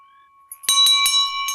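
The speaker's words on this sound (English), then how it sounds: "The ringing of the bell." An ancient Vietnamese temple bell, its metal greened with age, rung for meditation and struck about four times in quick succession, each strike bright and ringing over a steady sustained hum, with no talk.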